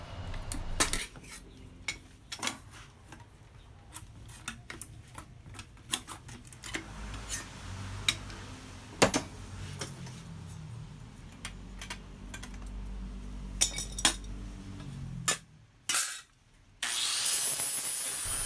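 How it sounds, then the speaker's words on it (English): A homemade hand shear cuts steel on a small anvil, giving repeated sharp metallic clicks and clanks at an irregular pace with a low scraping rumble between them, ending in louder metal noise. "Using my homemade shear in this small anvil doesn't give me a lot of resistance slash leverage, but eventually it works"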